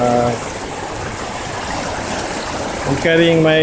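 Water spilling over a spillway, a steady broad rush of flowing water heard up close and loud for the whole stretch, with brief tonal bursts of another sound at the start and near the end.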